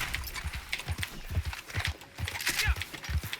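A horse in the Red Dead Online video game moves with a steady run of hoof clip-clops under game ambience, moderately loud and rhythmic, with a faint snort or whinny mixed in.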